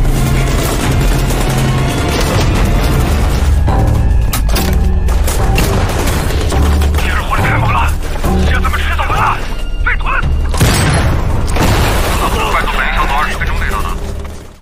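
Dense, loud gunfire and heavy booms from a film attack scene in which terrorists spray bullets, with crashes and bursts layered over a constant roar of action and voices.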